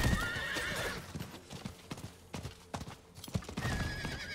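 A horse in the video game Diablo IV trots along with quick, irregular clip-clop hoofbeats and a whinny. Game ambience and scattered knocks fill the background, and no one talks over it.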